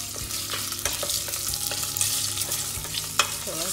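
Bacon lardons fry in sunflower oil in a pan for a carbonara, with a steady close crackling sizzle broken by intermittent scraping stirs and a few sharper clicks from utensils.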